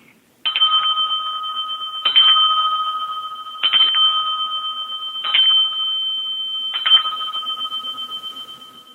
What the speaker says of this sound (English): I'm going to have to ding my bell